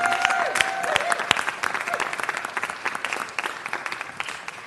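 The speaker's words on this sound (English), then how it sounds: "let's give Chuck and the group another round of applause" A room of people at a city council meeting applauds for an honoree and his group, dense clapping that fills the whole stretch and slowly thins out.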